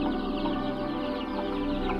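Free-ranging desi chickens cluck softly while foraging on a rural farm, a dense, continuous murmur of many birds under steady background noise.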